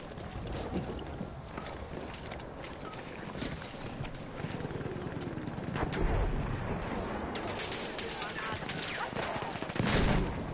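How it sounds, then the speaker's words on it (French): Gunfire rattles through a Battlefield 1 match on PS4, dense bursts and sharp shots layered over constant battlefield noise, with a louder cluster near the end and players talking throughout. "ça me tire dessus"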